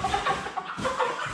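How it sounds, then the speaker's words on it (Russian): A Cobb 500 broiler rooster clucks repeatedly in quick, close bursts, throaty and agitated, with no other sounds around it. "петух."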